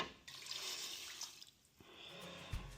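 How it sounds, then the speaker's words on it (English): About two cups of water are poured into a pot while a spiced chicken dish cooks, a soft, steady splashing stream that tapers off, with a small clunk at the end. "Then I'm going to add about 2 cups of water."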